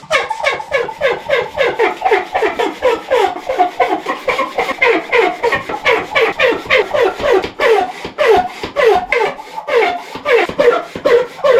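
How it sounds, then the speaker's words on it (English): Steady, rapid scraping strokes of a small stiff chimney sweep brush scrubbing inside a narrow clay flue of an old cottage, rhythmic and close. "Little mini chimney sweep brushes. Give it a good brush."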